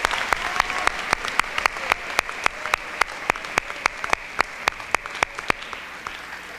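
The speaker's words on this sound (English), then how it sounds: "give them an applause, the English department and the librarian" Audience applause for teachers, the English department and the librarian, at a school speech contest finals, a steady round of clapping with sharp individual claps standing out throughout.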